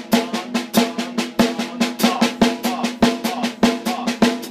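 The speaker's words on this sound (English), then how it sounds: "So if I start with my 4 on beats and 4 off beats, again with a quarter note here on my hi-hat, it will sound like this" Drum kit playing a steady pattern of on-beat and off-beat strokes over hi-hat quarter notes, crisp, evenly spaced close hits repeating for several bars with no voice.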